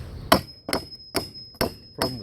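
Wedges hammered in to split longleaf pine rafters away from a longleaf pine beadboard ceiling: five sharp, loud blows spaced roughly half a second apart, close by, with no speech.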